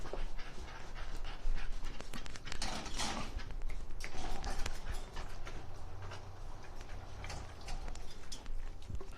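A big dog panting steadily and close by, a continuous rhythmic huffing that lasts throughout, with light scuffling and clicking noises underneath.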